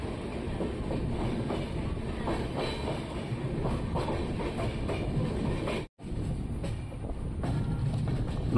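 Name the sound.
local train passing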